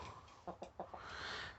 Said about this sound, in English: These two Barred Rocks, this chicken here, and this chicken here are all the same age.